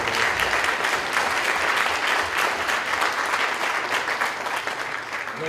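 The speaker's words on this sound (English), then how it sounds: "Let us give him a hand clap" A church congregation gives loud, dense, sustained applause for Brother Still, an even wash of many hands clapping for several seconds with no voices over it.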